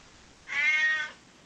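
A loud cat gives a single clear, harmonic meow lasting about half a second, close and alone over a quiet background.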